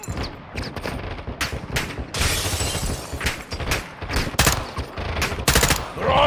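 Heavy gunfire from Call of Duty Modern Warfare 2: dense, continuous automatic bursts and single sharp shots rattling throughout, loud and close, with explosive booms layered over a busy battlefield din.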